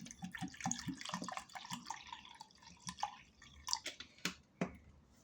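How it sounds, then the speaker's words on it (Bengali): Water poured into mashed jackfruit seed dal, with close, quiet splashing and irregular dripping and wet squelches, no talk. "এবার এর মধ্যে যতটা দরকার সেই পরিমাণে দিয়ে দিচ্ছি জল"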